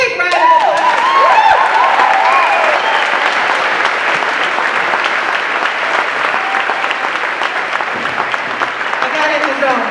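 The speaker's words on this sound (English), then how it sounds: "Big round of applause." Loud, sustained applause from a school concert crowd for the Cohasset Middle School grades 6–8 band, dense clapping with a few cheers and whoops near the start, steady to the end.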